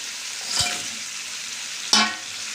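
Fish pieces drop into a pan of frying spice masala, setting off two sharp bursts of sizzling, one after the other, over a low background crackle of hot oil.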